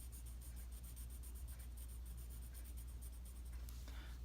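A pen scratches quickly across paper, shading in boxes with rapid rhythmic back-and-forth strokes. The sound is close and fairly quiet, over a low steady hum, and nobody speaks.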